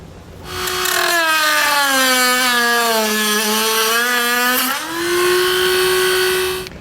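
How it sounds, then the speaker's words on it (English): Cut-off wheel grinding through a plastic tab on a 2021 Buick Encore front end, a loud whining tone that dips slightly in pitch under load, pauses briefly, then resumes before stopping. "We'll use a cut-off wheel to cut it off of there."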